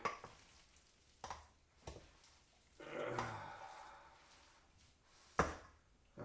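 Onions dropped into a pan with bacon bits sizzle and crackle at a low level, broken by a few sharp clatters of stirring and a louder burst of frying partway through, with no talking.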